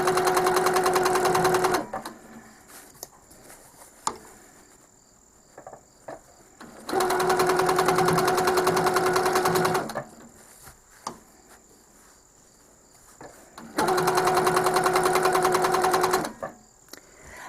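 A Handi Quilter quilting machine stitches a Christmas quilt block in three loud, steady whirring bursts of about two seconds each, separated by quieter pauses with faint handling clicks.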